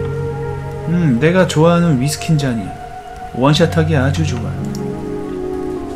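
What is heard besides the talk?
heavy rain outside, from a horror video game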